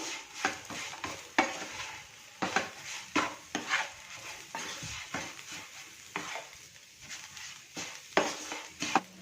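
Bharangi wild greens stirred in a pan with red chili powder and salt, giving repeated scraping and clinking strokes in an uneven rhythm over a soft fry, close and clear with no talk.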